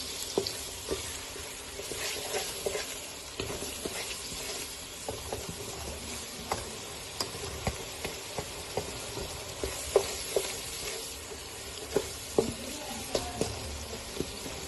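Masala for egg fried biryani sizzling steadily in a pan while being stir-fried, with frequent close scraping and clinking stirs of the spoon against the pan throughout.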